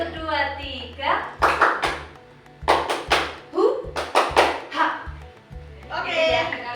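Hands clap in quick sets of three, sharp and close, repeated several times during a group session, with a voice speaking between the sets.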